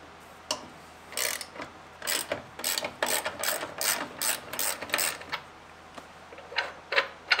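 Ratchet wrench undoing bolts on a bay boat's shallow-water pole anchor mount, heard as close, loud bursts of rapid clicking repeated in a steady run of strokes with brief pauses between them.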